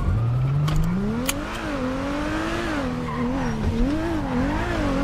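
A car in the GTA video game drives with a steady, rising engine whine that bends in pitch over about five seconds as it skids and corners, with no one talking over it.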